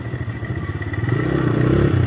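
A motorcycle engine idles close by with a throbbing, pulsing rumble that grows slightly louder and steadier.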